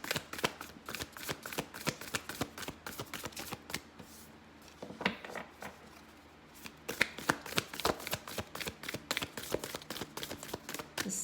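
Close, dry riffling and flicking of a large tarot deck being shuffled over and over, with a short quieter pause in the middle.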